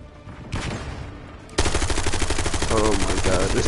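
Rapid automatic gunfire in the Black Ops 6 shooter, starting with a softer burst and then breaking into loud, sustained full-auto fire with a fast, even rhythm close up.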